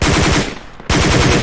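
Rapid automatic gunfire in the Project Reality military shooter, loud and close, in fast regular bursts that break off for a split second before resuming at full intensity.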